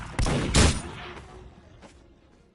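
Gunfire in the Roblox game Dead Sails, two sharp close blasts in quick succession followed by a decaying tail and a faint later shot, loud with no talking.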